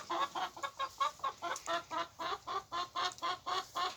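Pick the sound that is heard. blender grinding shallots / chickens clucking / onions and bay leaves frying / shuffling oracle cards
chickens clucking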